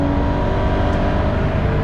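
Porsche 996 GT3 flat-six running steadily on the Nürburgring, a loud continuous engine drone with a constant-pitch hum and no clear revs or pauses over the short stretch.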